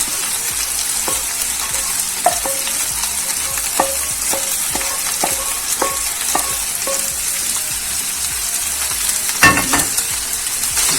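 Chicken and vegetables sizzle steadily in a pan as a utensil stirs them, with repeated scraping strokes and clacks against the pan, close and loud, no talking.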